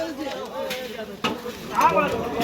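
Huge cauldrons of curry cooking for about ten thousand people at the Joyguru festival in Ghatal, with steady stirring and sizzling, a scrape around the middle, and crowd voices murmuring underneath.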